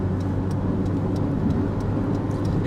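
A Vauxhall Cavalier mk2 cruises at about 70 mph in fourth gear on a four-speed gearbox, giving a steady, loud interior drone of engine and road roar with no talking.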